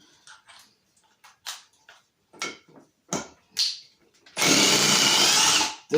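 A Milwaukee M18 Fuel Surge hydraulic impact driver runs in one steady, muted whirring burst of about a second and a half, preceded by scattered quiet clicks and handling noises.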